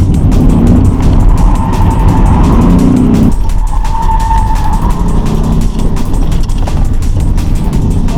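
Ford Mustang driven hard on a test drive, the engine roaring loudly under heavy throttle. Tires squeal and the car's pitch shifts midway as it comes out of a corner and accelerates.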